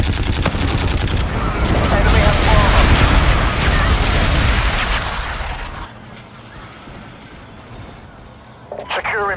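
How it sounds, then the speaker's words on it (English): Friendly bombardment in a Call of Duty: Infinite Warfare match brings loud, dense rumbling explosions and heavy gunfire that crowd the first half, then fade to a quieter rumble with a brief blip near the end. "Friendly bombardment incoming."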